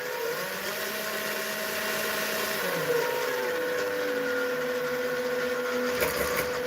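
Electric motor of an RC crawler spinning its wheels fast in second gear, a steady close whine whose pitch sags and shifts midway while the drive keeps running, with a brief rattle near the end.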